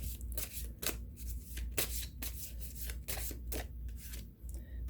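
Playing cards drawn and shuffled from a deck during a tarot-style reading, heard as a run of close, soft riffling snaps and papery slides over a low steady hum.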